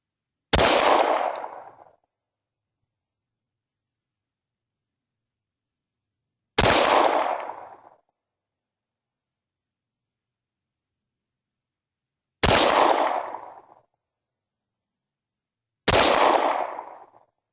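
Four loud, sharp FNX 45 pistol shots ring out outdoors at dusk, spaced several seconds apart, each followed by a short decaying echo against otherwise silent surroundings.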